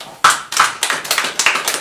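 A church congregation claps hands together in a burst of several loud, close claps with uneven rhythm, fading and rising across the hall, with no talking.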